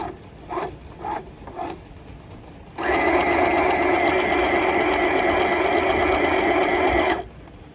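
A domestic sewing machine runs steadily for about four seconds after a few short mechanical clicks, its motor whirring loud and close with no talk.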